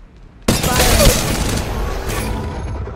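Gunfire in the mobile shooter Apex Legends Mobile bursts in loudly and carries on as a dense, sustained volley of shots through the rest of the moment.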